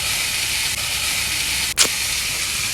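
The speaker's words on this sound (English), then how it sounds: "now you can hear that sizzling" Minced garlic sizzles in a hot pan, a loud, continuous hiss that holds steady throughout, broken only by one short scraping clack.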